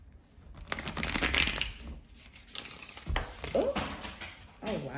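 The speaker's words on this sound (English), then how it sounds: "All of my cards have fell on the floor." Playing cards spilling onto the floor during a tarot reading, a brief flurry of soft slapping and crinkling thuds at close range, with a short spoken exclamation partway through.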